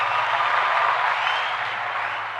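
Applause from a crowd, used as a sound effect: a dense, steady wash of clapping that holds at an even level for a couple of seconds and then eases slightly.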